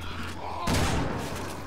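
A single heavy shotgun blast booms in Resident Evil 6 during Leon's campaign, one loud shot with a rolling tail over steady game background noise.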